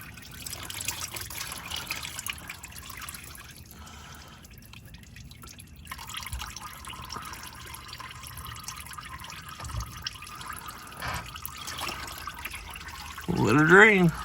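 Oil draining from a car during an oil change, a soft steady trickle and drips close by, with a voice briefly heard near the end.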